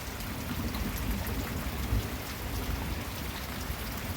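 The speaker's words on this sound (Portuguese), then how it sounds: "Olha o trovão." Heavy rain pours steadily over a rural smallholding with a bonfire burning, a dense, even hiss, and a low rumble of thunder swells briefly midway.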